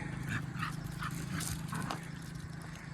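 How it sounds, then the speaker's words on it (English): Family dogs in the Philippines barking several times at a moderate distance, short yaps spaced through a steady background hum of outdoor noise. "These are the family dogs."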